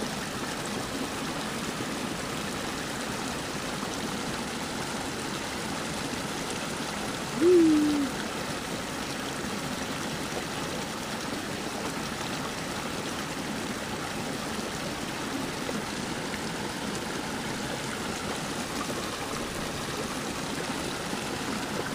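A small waterfall on a stream rushes steadily and evenly for the whole stretch, a constant broadband wash with only one brief bump partway through.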